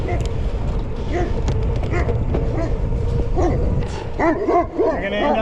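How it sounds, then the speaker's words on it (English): A dog by a country road where the gravel ends, yipping and barking in short bursts over steady wind and road noise, with someone talking to it. "and here we got a dog."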